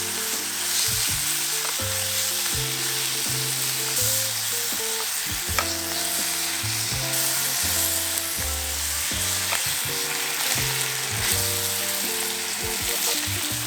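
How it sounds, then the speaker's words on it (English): Samgyeopsal pork belly sizzles in a pan, a continuous close crackle and hiss over background music. "Okay, let's add in our samgyeopsal"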